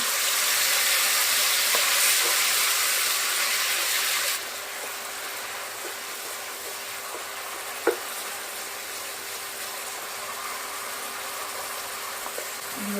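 Tomato paste added to hot oil with whole cumin seeds sizzles steadily in a pan while spinach is cooked Bengali style, loud broadband frying at first that drops to a softer, even hiss, with a small clink midway.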